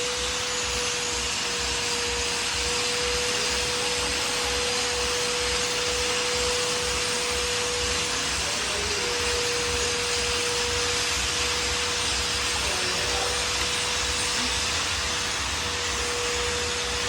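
A vacuum cleaner runs continuously at close range in a steady loud whine with a constant hum beneath it, unchanging for the whole stretch with no voices.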